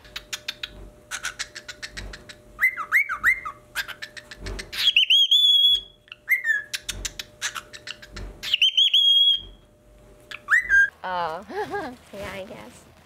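Pet birds chirp and whistle in bursts of bright, rapid notes and rising tones at a garden tulip planting, sounding close and lively with small scratches and pauses between calls.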